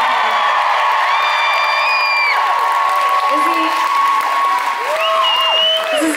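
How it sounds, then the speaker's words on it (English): A concert crowd at Union Transfer applauds and cheers for the band's new member, a thick, continuous roar of clapping with high whoops and shouts rising over it. "Would you guys please give a huge, huge round of applause?"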